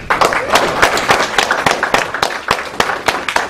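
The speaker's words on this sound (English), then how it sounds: "let's give him a round of applause for Bobby Hemmitt" An audience applauding speaker Bobby Hemmitt, close and loud dense clapping that carries steadily through the clip without letting up.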